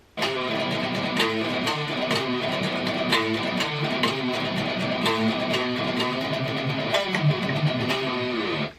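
Electric guitar playing a riff at full speed, a dense, distorted and sustained tone with rhythmic palm-muted chugs, continuous and close without pauses.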